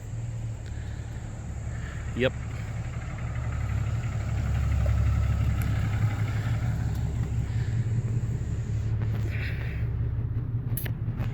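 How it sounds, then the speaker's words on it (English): A work truck rolls up and idles at a residential window and vinyl siding job site. Its engine makes a steady, low rumble close by, and a person briefly says a word. "I hear one of my trucks now probably coming to just hit a couple punch list items"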